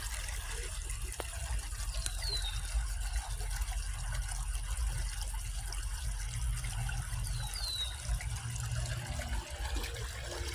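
A woodland stream flows with a soft, steady wash of water, faint and continuous, with a couple of brief bird chirps above it.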